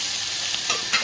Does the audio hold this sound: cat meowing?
no